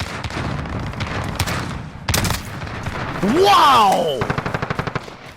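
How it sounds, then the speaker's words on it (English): Rapid shotgun and automatic gunfire from a Call of Duty match bursts in loud, dense volleys, with a rising whine in the middle and a fast trailing string of shots, as a player exclaims. "Nice shotgun, bro."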